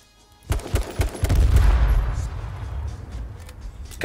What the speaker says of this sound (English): the shotgun actually works now